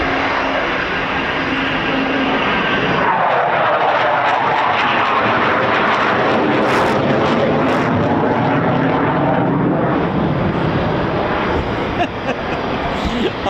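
Two military jets flying past together at RAF Coningsby, a loud sustained engine roar rising and falling as they pass, with a person talking over it.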